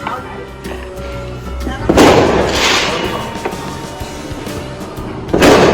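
New Year's fireworks go off in booming bursts, two big explosions with crackling tails, while people talk and shout nearby.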